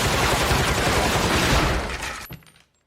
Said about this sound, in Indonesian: ia pun memakai peralatan modern yaitu Gatling Gun yang dapat melepaskan beberapa peluru dalam satu kali tembakan